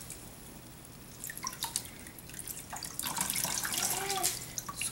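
Water drips and trickles from a squeezed, soaked knitted piece, starting with scattered drops and building into a denser patter of splashes, close and fairly quiet.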